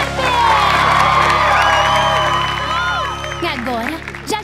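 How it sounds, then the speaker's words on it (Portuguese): A crowd of young voices cheers, whoops and claps for Melody Piper at a lively party, loud and close. The burst swells and then tapers, and a shout rises near the end. "Uma salva de palmas pra Melody Piper!"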